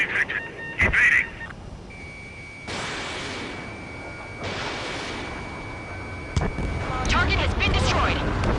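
Missile explosions in a combat flight video game, a few broad rumbling blasts rising and fading over a steady background, with a sustained tone and a brief cluttered burst near the end.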